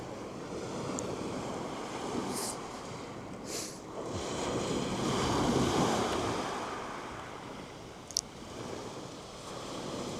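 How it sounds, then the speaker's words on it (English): Small waves wash onto Felixstowe beach below the promenade on a chilly, breezy spring day, a soft continuous surf swelling and easing, with a brief sharp knock near the end. "my favourite thing down here on the beach on Felixstowe, on Felixstowe's beach on the prom, is actually looking at the waves."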